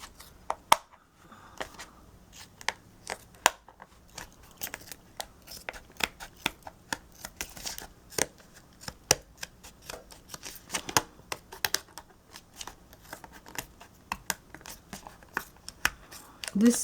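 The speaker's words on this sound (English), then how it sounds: "So you get a sharp scissor and cut it up like this" Scissors cutting through fabric for a handmade purse, a series of close, crisp snips and rustles in an irregular rhythm over a quiet room.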